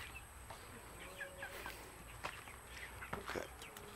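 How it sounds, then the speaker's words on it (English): Clucking chickens with scattered squawks over a busy, noisy background, with some footsteps and low voices mixed in. "First you got to get the chickens out of the way."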